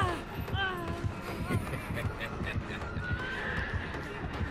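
A horse whinnies near the start amid a noisy outdoor scene, with people talking and shuffling around throughout.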